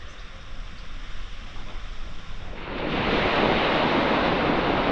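Waves washing onto the shingle of Chesil Beach, a broad rushing roar that swells louder partway through and then holds steady, with wind buffeting the microphone.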